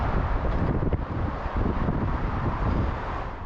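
Strong wind on a hilltop overlooking a bridge roars and buffets the microphone continuously, a loud, rough rush with gusty swells and no talk.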